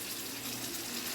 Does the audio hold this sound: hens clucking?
no